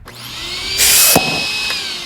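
A vacuum cleaner drones steadily as a comic sound effect, with a loud sucking whoosh surging for a moment in the middle before settling back to a constant motor whine; no one speaks.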